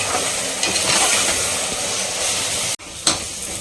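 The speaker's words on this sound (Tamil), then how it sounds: "இப்போ வந்து வெங்காயம் தக்காளி இஞ்சி பூண்டு பேஸ்ட் எல்லாம் அந்த அளவுக்கு வதங்கிடுச்சு" Onion, tomato and ginger-garlic paste sauté in a pan for chicken biryani, a steady close sizzling hiss broken by one brief dropout near the end, with no voices.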